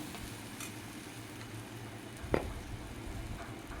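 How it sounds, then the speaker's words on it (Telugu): Okra frying in a pan gives a steady, moderate sizzle that runs throughout, broken by one brief sharp clink or stir partway through, with no talk. "మళ్ళీ మూత తీసి మళ్ళీ వేయించాలండి కొద్దిగా"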